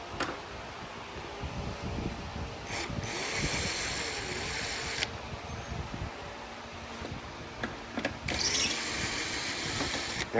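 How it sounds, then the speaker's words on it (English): A ratchet wrench works on the bumper fasteners of a Chevy Equinox with rapid clicking runs in several bursts, close and clear over a steady fan hum, with no talking. "So you get to wrenching on them."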